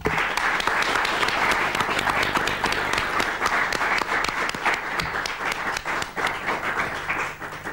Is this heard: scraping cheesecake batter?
no